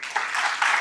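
A leadership summit audience breaks into applause, a brief burst of many hands clapping at moderate loudness from the room.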